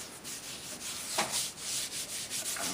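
Light wax is rubbed by hand onto an antique wooden pie crust table, a soft, steady, close-up rubbing with rhythmic strokes.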